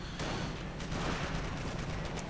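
Heavy machine gun fire in a WWII strategy video game, a dense sustained rattle of rapid shots layered with battle noise throughout, with no talking.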